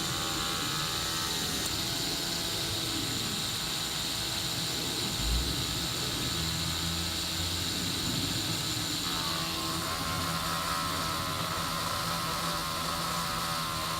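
A CORE CGT400 gasless electric string trimmer runs with a loud, continuous high whine and steady motor hum, its pitch sagging and shifting as the motor labors under load, with no talking.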